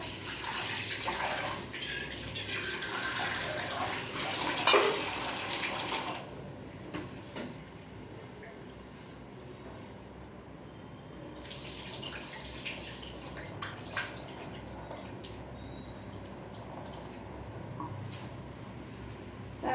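Rice washed by hand in a separate pot before going into a rice cooker, splashing and swishing water at first, then quieter drips and trickles before a second burst of sloshing, close by and with no talking.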